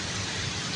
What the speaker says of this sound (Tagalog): Biglang buhos ng malakas na ulan guys.